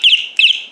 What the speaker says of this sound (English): That's the alarm and the horn.